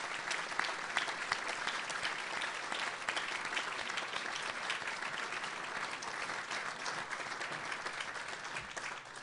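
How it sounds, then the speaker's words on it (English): A round of applause fills the room at an ethics essay award dinner, steady crowded clapping that holds evenly for about nine seconds with no voices over it. "I'd like to ask everyone to give them a round of applause"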